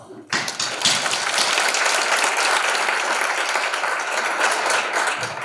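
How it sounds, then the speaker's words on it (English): Loud, sustained audience applause at a data-mining conference closing session, honoring the organizers: a sudden onset of dense crowd clapping that holds steady throughout. "I hope I can represent all you guys to give them a big applause."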